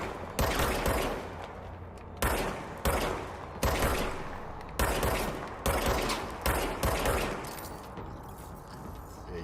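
Video game gunfire comes in seven or eight heavy bursts separated by brief pauses, loud and close, each volley ringing off into a short decay.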